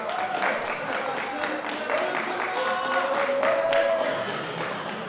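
A comedy-show audience applauding a stand-up comedian, a broad wash of clapping from a crowd that swells slightly and holds steady, with some murmuring and voices mixed in.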